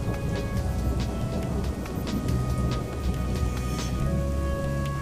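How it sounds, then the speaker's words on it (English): Steady rain falls continuously, a dense hiss of drops with low rumbling beneath, constant and fairly loud throughout. "Five millimetres of rain falls every day for weeks on end."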